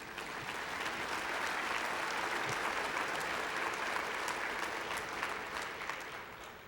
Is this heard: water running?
no